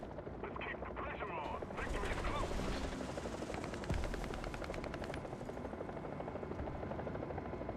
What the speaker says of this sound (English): We've still got a helicopter.